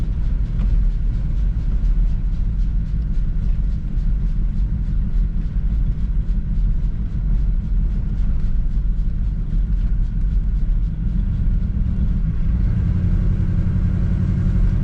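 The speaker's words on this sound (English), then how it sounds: "The stickers on the tires are making that noise" Continuous road and engine rumble from a 1963 Chevrolet Impala SS barn find driving with stickers left on its tires, a steady low roar with faint rhythmic ticking throughout, no talking.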